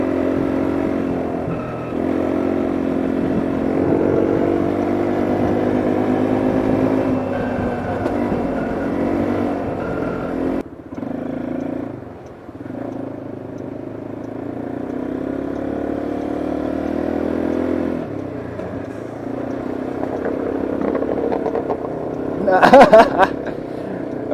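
Engine of a car on a daily drive, a steady loud drone that rises and falls in pitch as it revs up and down, with a brief sharper burst near the end.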